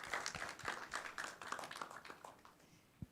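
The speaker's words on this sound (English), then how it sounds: "A round of applause for Endurance Group." An audience claps for a student group after a final seminar presentation on expedition leadership, a quick burst of uneven handclaps that thins out over a few seconds, with one sharper clap near the end.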